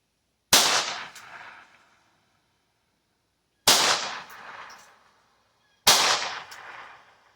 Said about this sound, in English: So we're just going to shoot a group.